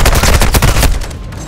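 Rapid automatic gunfire in Call of Duty: Modern Warfare II, a loud, close burst of shots for just under a second, then a fading echo.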